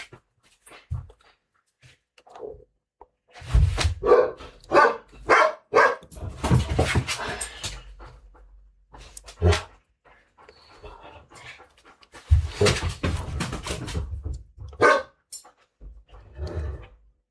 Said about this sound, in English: Great guard dog, he's guarding us from people walking past the house,